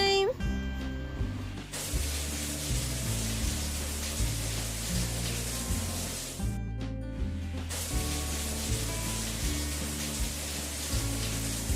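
A steady hiss of water spraying on a toy tow truck runs throughout, broken by a couple of short pauses, over a bouncy synthesized tune with repeating low notes.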